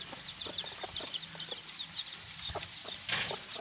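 Aseel hens cluck repeatedly in short, quick bursts, close and clear, with a louder flurry of clucks near the end and no talking.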